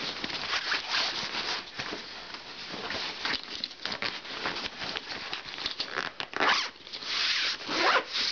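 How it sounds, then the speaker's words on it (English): Zippers on a Special Ops day bag are pulled open and shut in quick, close rasping strokes, with short pauses and light fabric rustle between pulls. "The zippers are pretty smooth."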